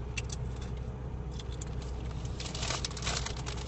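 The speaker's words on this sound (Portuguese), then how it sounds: "mas é que tá chovendo" Rain falls at a cemetery at night, a steady soft patter with scattered brighter taps and a low vehicle-like rumble underneath, no voices heard.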